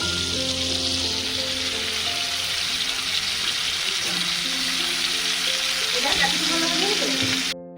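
Fish sizzles as it fries in a pan in a home kitchen, ahead of a malai curry for a Jamai Sasthi meal. The frying hiss is continuous and close, with faint music underneath.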